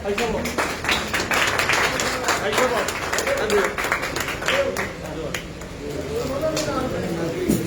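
A crowd at the opening of a grain shop claps in a lively, uneven burst of sharp hand claps that carries on under voices talking throughout.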